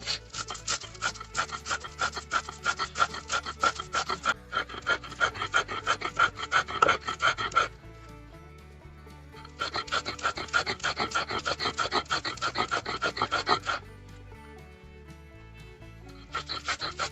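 Spices ground into a fine paste with a little water on a grinding stone for a Bengali chicken curry, heard as steady rhythmic rubbing strokes in long bursts with brief pauses between them, close and fairly loud.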